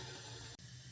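Hot oil tempering for khata dhokla hisses in a steady, close sizzle, with a brief dip partway through before the hiss resumes.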